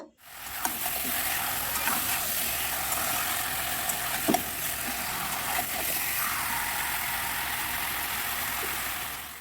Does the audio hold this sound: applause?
no